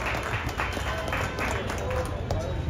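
An audience at an event in Bengaluru claps to welcome a speaker, dense continuous applause with a few louder swells throughout.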